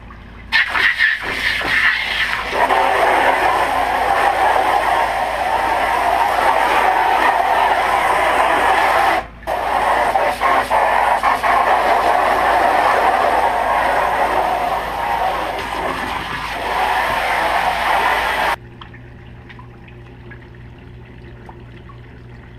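Water from a hose sprays hard against the inside of a drained aeration tank, a loud continuous rushing and splashing that runs almost unbroken for about eighteen seconds, with one brief gap, before cutting out to a quieter hum.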